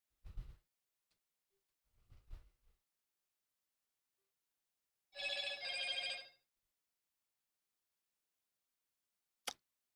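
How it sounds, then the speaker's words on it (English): Phone ringing with an incoming call, a single bright electronic ring burst lasting about a second, preceded and followed by brief soft knocks and a click in an otherwise quiet room. "My camera is my phone right now, and Amy just tried to call me"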